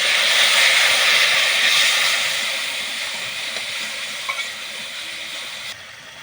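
Spice masala with cumin powder frying in a pan for a Bengali rui fish curry with potatoes, a steady broad sizzle that is loud at first and eases slightly, with faint stirring clicks and no talking.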